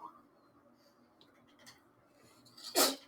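A single sharp sneeze bursts out near the end after a stretch of quiet room tone, loud and close.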